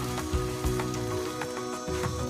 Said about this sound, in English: The rain is whispering that we need to go inside.